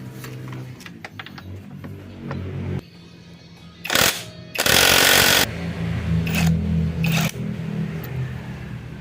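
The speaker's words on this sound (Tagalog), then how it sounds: "impact wrench, babarilin natin yan." Impact wrench loosening a bolt on a motorcycle during a DIY steering ball race replacement, giving a few loud, harsh rattling bursts with quieter clanking tool sounds between them and no talking.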